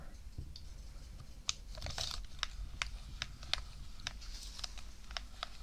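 Sharp clacky button presses on an 8BitDo Pro gaming controller, about a dozen distinct clicks spaced irregularly, close and fairly quiet over a low background hum, with no talking.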